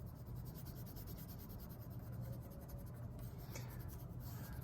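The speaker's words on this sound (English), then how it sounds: "I'm going to use white colored pencil on the moon." White colored pencil drawing on paper for a moon, a steady close scratchy rubbing stroke that continues without pause, quiet and alone.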